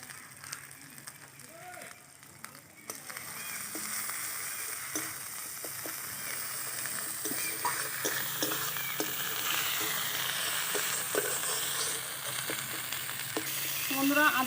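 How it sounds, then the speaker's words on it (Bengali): A paste of ginger, garlic and green chilli sizzles steadily in a hot pan for an egg curry, with a continuous crackling hiss and occasional sharper pops that build slightly louder toward the end. "আদা রসুনটা আমি ভাজা ভাজা করে নিলাম।"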